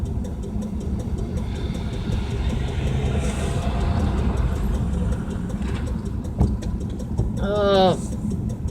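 A car that has been acting up idles with a steady low engine rumble and road-like drone throughout, while someone talks over it.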